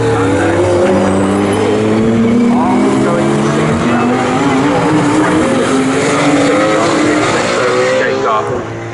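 GT Cup race cars battle through the infield at Snetterton, their loud engines droning and shifting pitch continuously for the whole stretch, with commentary talk running over the top.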